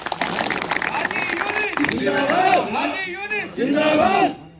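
A large political rally crowd roars and chants in rhythmic waves of massed voices, loud and close, with repeated swelling cheers and no single speaker.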